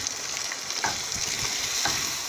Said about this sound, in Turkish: Şöyle karıştırıyorum.